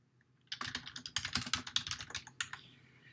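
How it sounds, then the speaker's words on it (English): An email subject line typed on a computer keyboard, a quick burst of close key clicks starting after a brief silence and lasting a few seconds, no voices. "Then you'll type in the subject."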